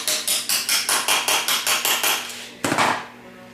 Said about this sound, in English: just tap your tubes down in there.